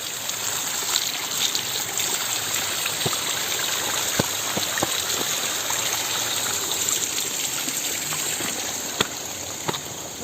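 Clear stream water flowing past a landslide-hit village in Sukajaya, Bogor, a steady close rushing and gurgling with occasional splashes and drips, no talk.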